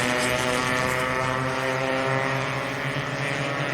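Improved production race cars cross the finish line in a loud, sustained engine roar with strong droning harmonics that stays steady throughout and cuts off abruptly at the end.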